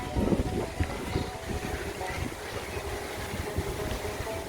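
Wind gusts across a riverbank at Joyrabad in Matlab Uttar, Chandpur, a steady rough rush with low buffeting close to the microphone throughout.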